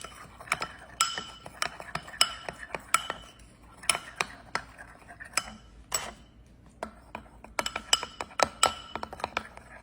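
A spoon stirs Halloween marble cake batter in a bowl, giving quick, irregular clinks and taps against the sides in close bursts over a quiet background.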